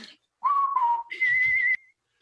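A person whistles two sustained notes, the first lower and slightly falling, the second higher and steady, clear and close with a short gap between them.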